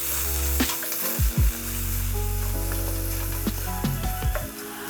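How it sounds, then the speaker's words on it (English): Chorizo pieces thrown into a hot pan for beef and chorizo tacos burst into a loud, close, continuous sizzle, with a few clattering knocks as they land and shift. "I'm going to throw my chorizo bits and pieces in."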